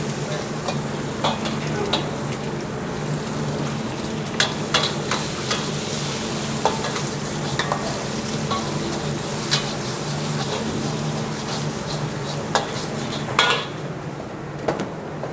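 Garlic and green onions stir-fried in a pan at a busy restaurant, a steady loud sizzle with repeated clinks and scrapes of a utensil against the pan, no talking.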